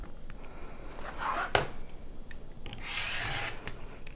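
Scissors or a cutter slice through quilting fabric being trimmed to width, producing a few close, rasping cuts with one sharp snip near the middle, quiet pauses between strokes and no talking.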